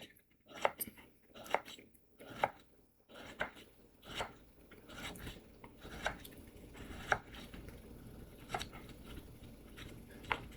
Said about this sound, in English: And so the beef starts to get cut up